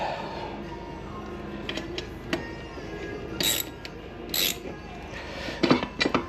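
Hand tools work loose the brake caliper on a 1996 Harley-Davidson, giving short bursts of ratchet clicks and sharp metallic clinks close by over a low room hum, with no talk.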